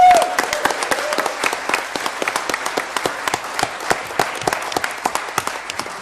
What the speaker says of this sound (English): And please give a clap to Peter as he leaves